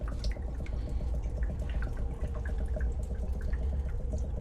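Water poured from a bottle into a permeameter in a lab makes a continuous trickling, dripping flow with scattered small bubbling drips, steady and close, over a low background rumble.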